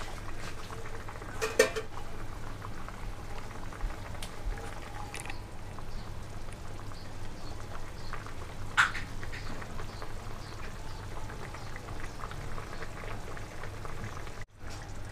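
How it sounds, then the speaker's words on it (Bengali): Fish oil curry gravy bubbles at a low boil in a pot with a soft, steady simmer, punctuated by a few faint clinks of utensil on metal. "আমি এটাকে আরেকটু ফুটিয়ে নেব।"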